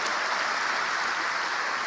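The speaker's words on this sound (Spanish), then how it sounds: "Dale fuerte tu aplauso al Rey bendito." A church congregation claps continuously, a dense, even wash of applause filling the room throughout the brief moment.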